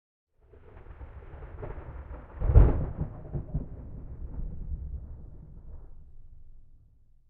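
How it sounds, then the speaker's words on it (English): Thunder in the video game Love and Deepspace rolls in as a low rumble that swells into a sharp crack, then grumbles and fades over several seconds, alone and without talk. "That sounded like thunder."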